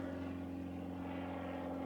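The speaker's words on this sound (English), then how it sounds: "the guy in the fighter jet or the plane has come back" A propeller airplane drones steadily overhead, a low, even hum with strong tonal bands, faint and distant, heard from a roadside stop on a Yamaha MT09 ride.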